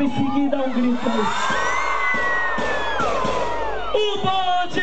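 At a concert in Piracicaba, Brazil, a crowd shouts and cheers loudly over driving music with a sung vocal line, the voices blending into a sustained roar.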